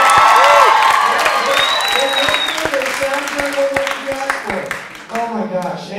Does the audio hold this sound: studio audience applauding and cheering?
yes